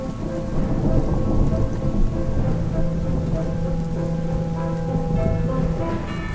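Heavy rain pours down during a violent hailstorm and thunderstorm in a Polish city, a dense continuous roar of rain on surfaces with rumbling thunder rolling underneath, loud and steady with no voices.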